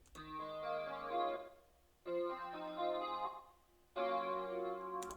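Dry arpeggiated guitar-style chords in an ambient beat, without EQ or stereo widening. Three quiet phrases of rippling notes, each about two seconds long, with no voices.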